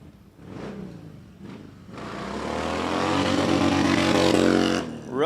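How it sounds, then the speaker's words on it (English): A Harley-Davidson Dyna motorcycle making a hard launch at a drifting race, its engine rising from a low idle into a loud, sustained roar that builds over several seconds before cutting off. "Rusty Carvalho with a big hard launch on that dyno right there."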